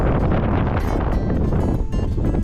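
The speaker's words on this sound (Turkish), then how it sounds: "Çok, çok rüzgarlı." Strong wind roars and buffets constantly over the open sea off Ireland from a boat, loud and unbroken, with a faint wash of waves beneath.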